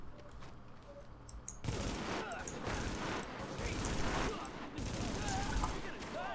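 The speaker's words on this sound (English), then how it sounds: "There should be some bad guys in the vicinity, so there will be a shooting in a few seconds." Gunfire in the video game Tom Clancy's The Division, a sustained rattling fusillade of rapid shots that starts abruptly and continues, loud and close, with faint game sounds before it.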